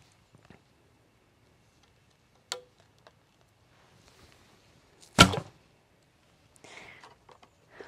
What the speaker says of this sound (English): I shoot the heavy arrows